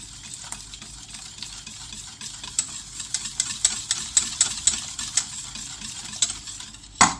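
Egg yolk tempered with pastéis de nata custard mixture is poured back into a saucepan and stirred: a steady scraping, ticking stir with soft regular clicks, close and fairly quiet, with one sharper knock at the end.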